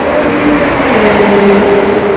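A car accelerating hard at full load, a loud, steady engine drone with a rising whine heard close from inside the cabin, alone without speech.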